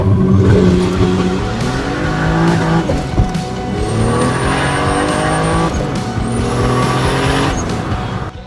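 A turbocharged BMW E36 with an M50B25 engine accelerates hard through the gears, loud and close, its engine note climbing and dropping at each shift with turbo whistle overhead; no talking.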